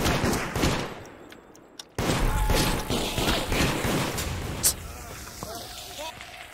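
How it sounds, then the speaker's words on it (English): Gunfire in the online video game Deceit cracks out in scattered bursts of shots, set against game noise, with voices talking over it. "Oh, they're shooting each other."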